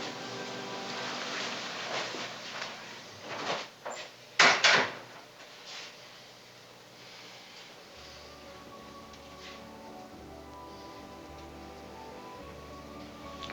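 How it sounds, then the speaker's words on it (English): A door swings shut indoors with a single solid wooden thud, fairly loud against a quiet room, followed by a faint low hum and soft rustling. "Shut the door."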